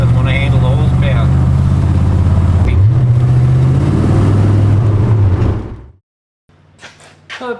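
A Ford XW Falcon with a slipping clutch being driven, its engine droning loudly with revs rising and holding, then cutting off abruptly into silence before a few faint, brief sounds at the end.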